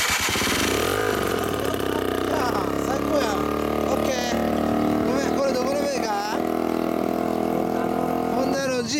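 A 2005 or 2006 Honda Zoomer scooter with a Beams exhaust runs loud and close, a steady buzzing drone with rising revs, while voices talk over it.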